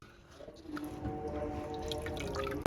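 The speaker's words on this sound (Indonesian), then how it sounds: "Lalu tambahkan 1800 ml air." Water trickles and pours into a melon and young coconut pudding mixture, a steady, gentle liquid stream with a few drips. The pouring builds slightly and ends with a sharp, louder knock.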